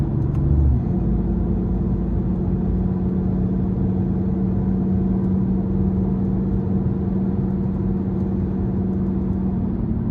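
Steady low hum of a 2019 BMW i8 driving in comfort mode, a smooth continuous engine drone and road rumble heard from inside the cabin at even volume throughout.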